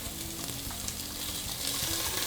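White onions and ginger sauteing in a hot pan give a steady, close sizzle and crackle that holds throughout, growing slightly louder toward the end, with no talking.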